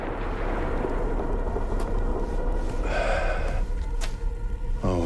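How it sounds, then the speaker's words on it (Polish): Deep rumbling booms of explosions in the video game Watch Dogs: Legion roll through a dense, noisy game soundscape, with a couple of sharper bursts near the end. "O panie, kolejne wybuchy."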